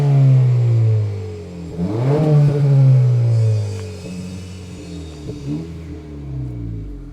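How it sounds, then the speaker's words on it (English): A 2025 Honda Civic with the 1.5 engine revs through its dual exhaust pipes, a close, loud rumble that rises sharply in pitch, holds, then falls back to idle before a smaller blip. "you go ahead and rev it up"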